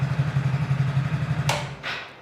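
A Hero Splendor motorcycle engine idles cold just after starting, a steady close pulsing thump with slightly raised, even revs, followed by two short clattery bursts near the end.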